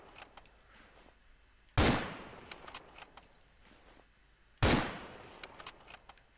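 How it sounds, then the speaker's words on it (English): A Norwegian Krag-Jørgensen bolt-action rifle in Forgotten Hope 2 fires two sharp, loud shots about three seconds apart, each followed by a decaying echo, with faint mechanical clicks and handling noise in between. "let's show off the Norwegian rifle that we recently released in a news update"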